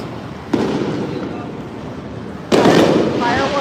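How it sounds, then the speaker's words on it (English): Fireworks go off at an outdoor flea market in New York City, two sharp loud bangs about two seconds apart, each followed by crackling and a lingering rumble. "Those are fireworks"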